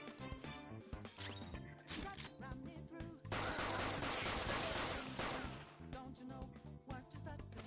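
Gunfire in a PS4 shooter, a dense burst of rapid crashing shots in the middle amid busy game sound and music, with scattered single impacts before and after.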